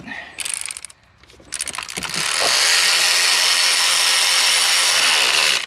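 An intake bolt is run back in with a ratchet during a spark plug change. A few clicks and handling knocks are followed by a loud, continuous rapid ratcheting whir up close, and nobody talks.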